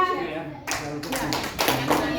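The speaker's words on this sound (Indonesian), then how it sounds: "yang mendengar suara saya, tepuk 2 kali" A group claps in bursts, loose uneven rounds of hand claps close by, with voices talking underneath.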